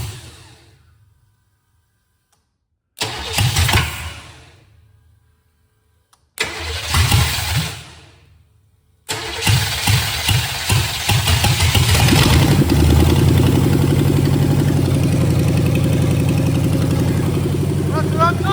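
A 1970 GMC 2500 truck engine cranks in three separate bursts divided by silence, then catches and settles into a loud, steady idle close by.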